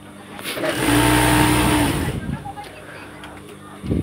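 A sewing machine stitches a petticoat seam in one close, steady whirring run lasting about a second and a half, then stops. Someone talks over and after it.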